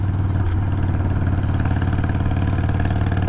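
Harley-Davidson Sportster motorcycle engine idling close by, with a steady, loud, rapid lumpy rumble and light mechanical clatter, and no voices.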